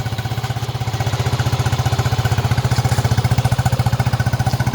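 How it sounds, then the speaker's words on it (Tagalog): Yamaha NMAX scooter engine idling through an RS8 aftermarket exhaust, a steady, close, throbbing low pulse with rapid even firing beats and no talk. "Ito po, RS8 na tambucho para sa NMAX."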